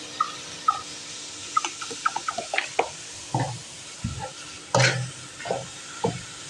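Soy sauce and chili sauce being stirred together in a pan, with scattered scraping and clinking of a utensil and light sizzling, no talking.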